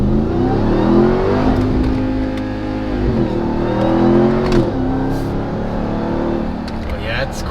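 A Dodge Ram TRX pickup truck engine revs and accelerates close up, its deep rising drone climbing in pitch across several gear pulls, with people talking over it inside the cab.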